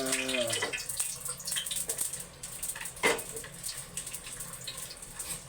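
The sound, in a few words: water poured into pan while cooking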